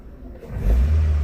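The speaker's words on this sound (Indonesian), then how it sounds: "awal atau pagi dia starter itu bunyi ya teman-teman ya, bunyi tek tek tek tek kalau digas ya, seperti ini ya" Toyota Avanza engine on a cold start, revved up with a rising, loud low rumble that builds after a quieter idle; any ticking is not clearly separable from the engine roar.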